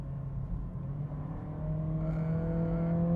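A 2025 Acura ADX compact SUV engine rises in pitch after a paddle-shifter downshift in sport mode, a steady close cabin drone that swells louder in its final second and a half.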